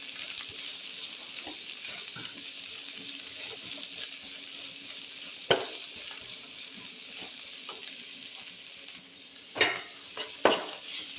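Capsicum and onion sizzle steadily in a hot pan, a constant frying hiss with a few sharp clinks of a stirring spoon, close and with no talking.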